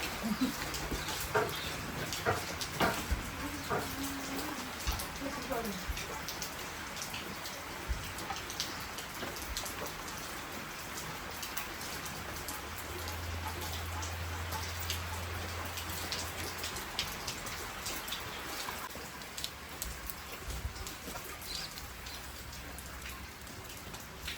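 Heavy rain pours steadily on a village, a dense even patter close by, with faint animal sounds and a low hum partway through.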